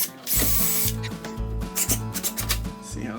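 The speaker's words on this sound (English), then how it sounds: "I'm just gonna do a pilot hole." A power drill bores a pilot hole for a screw into wood near a magnetic door catch. The whine starts and stops in several short bursts as the trigger is pulsed, close and loud, with a gritty grinding edge.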